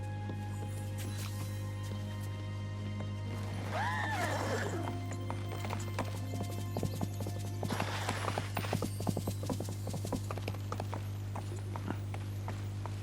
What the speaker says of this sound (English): they've managed to put the sound of the horses hooves in properly now